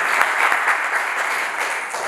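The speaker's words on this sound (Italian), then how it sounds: "facciamo un grosso applauso a Rachele per il suo compleanno" A crowd applauds steadily, a dense wash of clapping hands throughout.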